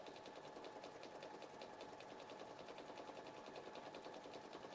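Sewing machine stitching through thick folded quilt fabric and seams, a steady fast rhythmic chugging pulse that runs continuously at low volume, with no talking.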